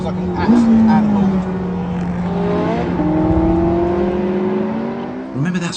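A Porsche 918 Spyder driven fast on hot laps around a track, its engine droning loud and steady with rising and falling pitch through short-shifted gears, close and continuous with a brief shift dip near the end.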